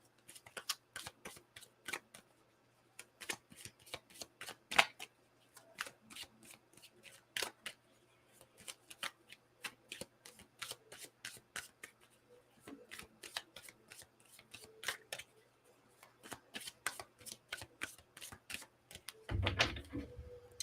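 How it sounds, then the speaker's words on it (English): Repeated crisp riffles and flicks of a Llewellyn tarot deck being shuffled by hand, in uneven bursts close to the listener, with quiet pauses between. "when I was shuffling"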